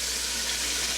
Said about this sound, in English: I'm going to go ahead and let that get some water in there, make it easier to clean